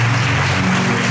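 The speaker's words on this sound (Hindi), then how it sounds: "एक बार फिर से जोरदार यीशु के लिए ताली बजाएंगे" Church congregation clapping loudly for Jesus during a worship gathering, a dense steady burst of many hands close by, with a low hum underneath and no voices over it.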